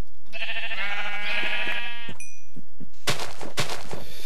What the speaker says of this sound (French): il y avait des moutons dans le truc